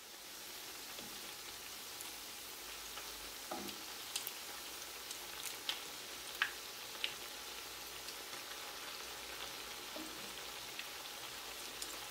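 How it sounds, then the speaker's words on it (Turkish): Quiet, steady sizzle of meatballs frying in oil, with scattered soft pops and crackles over a continuous hiss. "Yumurtaya köfteleri buluyorum ve yağ bırakıyorum. İki taraflı olarak kızartacağım."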